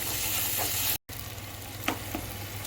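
Bitter gourd pieces frying with onions in a pan, a constant close sizzle with a brief drop-out and a few soft stirring knocks.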